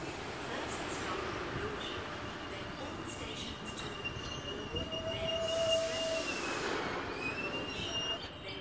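An M6 train departs Petersham Station, its wheels rumbling steadily with a rising squeal and hum as it pulls away, joined by a thin brake or wheel whine midway, with faint voices around the platform.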